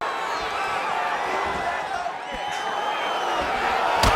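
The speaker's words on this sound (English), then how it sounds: "While the crowd continues to react with every..." A crowd in the UFC 5 video game reacts to a fight with a steady, dense roar of cheering and murmuring, and a commentator talks over it.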